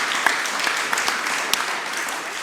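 Audience applause in a French televised discussion on prevention, a dense steady wash of many hands clapping for about two and a half seconds, with a few sharper claps standing out.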